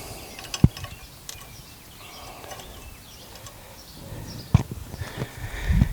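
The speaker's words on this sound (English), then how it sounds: "So go ahead and get these safety pins in here." Safety pins are fitted into a coil spring compressor during a front drop kit install on a 2017 Ram 1500 4x4, giving sparse close metallic clicks and clanks, one sharp knock near the start and another later, amid quiet shop rustling.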